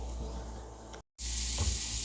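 Sausage sizzles in a pan over high heat, a steady close crackling hiss that breaks off briefly and then comes back louder.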